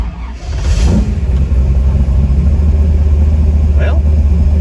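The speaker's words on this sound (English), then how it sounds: "let's go take the little Nash here for a test drive and see how the Fitech's doing." A 1958 Nash Metropolitan with a 383 stroker engine and Fitech fuel injection runs loud and close, its steady low rumble swelling briefly near the start and holding a deep, continuous drone throughout.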